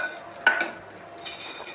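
A cooking pan is set down on a kitchen stove with one sharp metallic clank, followed by a faint rattle and light kitchen background noise.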